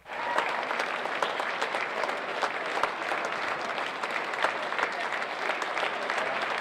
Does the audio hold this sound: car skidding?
no